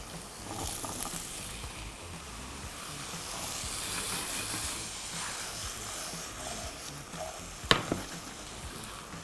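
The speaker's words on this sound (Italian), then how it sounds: "attendiamo che l'olio diventi caldo e poi possiamo aggiungere le nostre patate" Hot oil with thyme hisses and sizzles faintly in a pan before the potatoes go in, a low steady crackle with a sharp clatter near the end.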